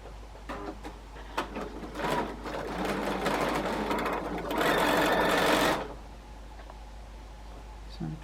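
A sewing machine stitches a seam on a quilt 4-patch, a close mechanical whirr with rhythmic clicking that builds to a steady fast run before stopping, leaving a low hum behind.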